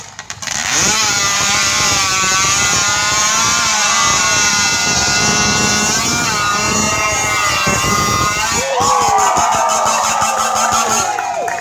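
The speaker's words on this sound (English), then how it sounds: "On my go, these guys are going to start up their chainsaws and complete 3 discs off the end of the log." Several chainsaws roar together in a lumberjack show, cutting three discs off the end of a log, a loud continuous engine drone with shifting pitch that runs steadily before the note changes near the end.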